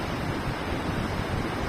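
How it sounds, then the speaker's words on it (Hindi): River flowing beside the Yamunotri trek path in the mountains, a loud, constant rushing of water with no break, alone. "पीछे की तरफ ये सुंदर सी नदी जो है वो बह रही है"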